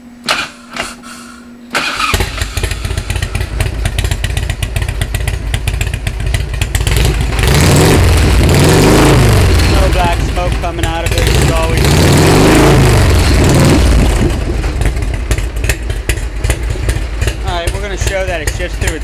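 A 1991 Harley-Davidson Ultra Classic Electra Glide motorcycle fires up after a brief quiet moment, then runs with a loud, steady, close engine rumble that swells as it is revved, with a voice talking faintly over it.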